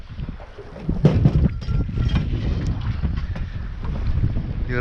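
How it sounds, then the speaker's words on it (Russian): Steady wind buffets a small fishing boat on open water, a continuous rushing roar with gusting swells and occasional knocks, close and fairly loud with no talk. "Задолбал уже этот ветер"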